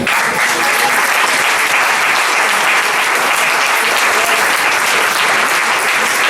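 A church congregation applauds during a Spanish-language sermon, with loud, sustained clapping from many hands filling the whole stretch and no break.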